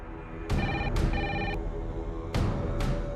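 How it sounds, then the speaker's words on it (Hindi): A telephone rings in two bursts of repeated trilling bell tones with a short pause between, fairly close and loud with no talk over it. "ये जरूर ऋषि का फोन होगा"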